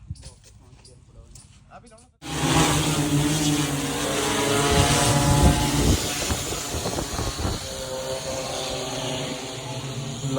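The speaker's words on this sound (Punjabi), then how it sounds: "ਅੱਜ ਆਪਾਂ ਲੱਗੇ ਆ ਜੀ ਗੰਨੇ ਨੂੰ ਸਪਰੇਅ ਕਰਾਉਣ ਡਰੋਨ ਤੋਂ" A loud, steady mechanical whir with a buzzing drone hum, an agricultural spray drone flying close by over a sugarcane field, after a brief stretch of talking at the start.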